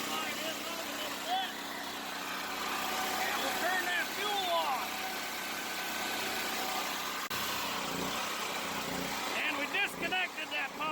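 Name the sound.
generator running unloaded after power switch flipped off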